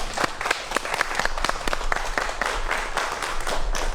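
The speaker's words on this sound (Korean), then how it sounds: "박수 부탁드립니다" An audience in a lecture hall applauds to welcome a professor giving a talk, a steady, fairly even wash of clapping throughout, with no speech over it.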